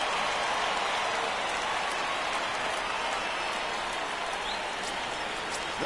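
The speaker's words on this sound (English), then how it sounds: "It's raining cats and dogs out there." Steady, heavy rain pours over the ballpark in a Yankees versus Orioles baseball video game, a dense, unbroken hiss that holds at an even level throughout with no commentary over it.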